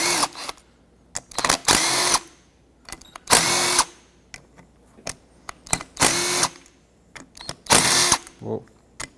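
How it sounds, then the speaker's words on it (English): A power tool spins out the water pump bolts on a 2005-2010 Pontiac G6, several short loud whirring bursts close by with clicks and clatter between them. "So let's just take all of these bolts out."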